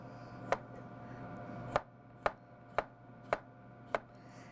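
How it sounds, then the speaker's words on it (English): A knife rough-chops potatoes on a cutting board, six sharp, evenly spaced thuds over a quiet kitchen background with no voices. "I'm doing a nice rough chop on my potatoes because it doesn't matter"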